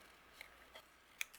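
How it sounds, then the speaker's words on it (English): Scissors fussy cutting paper florals for a crafting project, making a few faint, crisp snips spaced apart in a quiet room. "when I fussy cut, I turn the paper and not the scissors"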